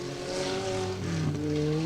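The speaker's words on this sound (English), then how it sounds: "Car sounding a little second hand." A rally car engine at the Woodpecker Stages Rally revs hard nearby, its tone shifting and climbing in pitch as the car accelerates.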